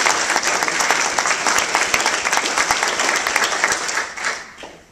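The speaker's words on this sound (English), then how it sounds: "Let's give them a round of applause here." A crowd claps loudly and steadily for military veterans in attendance, dense applause with crisp individual hand claps that holds for several seconds before tapering off at the end.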